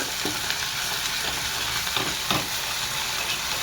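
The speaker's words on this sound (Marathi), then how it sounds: "आणि हे टाकणार आहे हिरवी लसूणचं पेस्ट" Green garlic paste goes into chicken sizzling in a pan, giving a steady loud hiss of frying with a few scraping stirs and soft clatters, close up and without talk.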